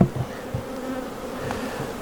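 Bees buzz steadily around a hive during a beekeeper's check on a colony, a close continuous drone with no talking.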